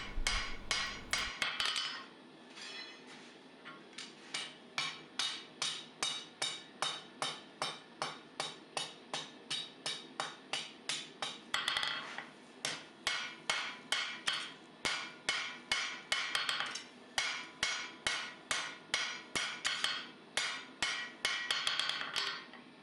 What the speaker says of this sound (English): You'll notice here that I'm tapping quite lightly, but I'm still moving material.